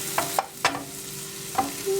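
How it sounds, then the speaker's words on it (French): Pepper and other ingredients stirred in a cooking pan: a few sharp scraping taps at an uneven pace over a low steady hum, fairly close, with no talking. "On va remuer le tout, mélanger le tout."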